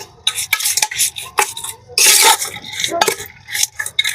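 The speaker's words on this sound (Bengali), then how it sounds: "আর এই পর্যায়ে একটু নেড়েচে মিশিয়ে দিতে হবে।" About a cup of chopped onion being stirred in a cooking pot for village-style beef bhuna khichuri: close, irregular scrapes and clinks of a spoon against the pot, with one longer, louder scraping sweep in the middle.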